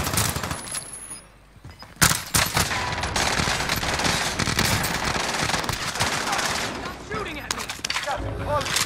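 Call of Duty Warzone firefight with heavy automatic weapon bursts and scattered single shots, loud and close, pausing briefly near the start before resuming; a player talks over the shooting at times.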